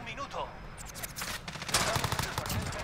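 A P90 submachine gun firing rapid bursts in Modern Warfare, quick crackling shots in a fast stream, mixed with other game sounds and someone talking over it.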